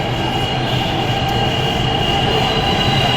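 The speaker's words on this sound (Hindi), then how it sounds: "मेट्रो आ गई" A metro train rumbles loudly and steadily through a station, a continuous rolling roar with faint wheel clatter and hum, no voices over it.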